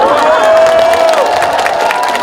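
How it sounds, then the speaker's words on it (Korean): At the 2026 East Asia City of Culture opening ceremony in Andong, the crowd loudly applauds and cheers as the mayor of Matsumoto is welcomed to the stage, a dense roar of clapping and voices with a thin whistle-like tone. "여러분 힘찬 박수로 모시겠습니다."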